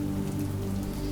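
Constant rain streams against a window, an unbroken close hiss with a low steady hum underneath.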